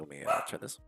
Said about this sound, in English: dog was barking